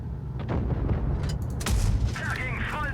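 Tank cannon fire from the video game World of Tanks Blitz booms heavily over a rumbling engine and battle noise, with a second blast following shortly after, and a voice speaks over the action.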